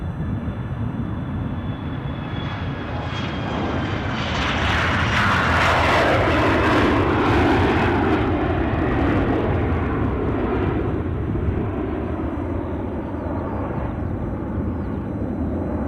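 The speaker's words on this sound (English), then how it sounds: "Aberdeen Airlines CRJ 900 is now tracking out itself." A CRJ 900 jet airliner at Aberdeen Airport produces a loud, sustained engine roar that swells to a peak midway and then holds steady as the aircraft moves away, with no talking.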